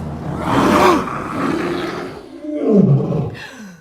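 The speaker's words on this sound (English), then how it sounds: "he opened his mouth very wide, and he roared the loudest roar he had ever roared in his life" A lion lets out a loud, drawn-out roar in two surging bursts, close and dominant with no other sounds.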